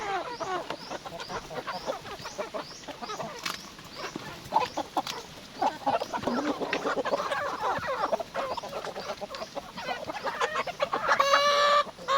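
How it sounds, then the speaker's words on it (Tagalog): Several backyard chickens cluck and chatter continuously nearby while being fed, with busy overlapping calls and scratchy background noise, rising a bit louder near the end. "habang nagpapatuka sa aming alagang mga manok"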